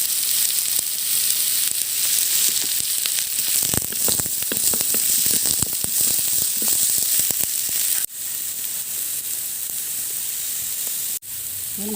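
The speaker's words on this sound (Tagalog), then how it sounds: "Painit na ako ng mantika at sisimulan na nating maggisa." Garlic sizzles loudly in hot cooking oil in a pan for pork hamonado, a dense steady hiss with scattered crackles and a couple of brief drops as it is stirred.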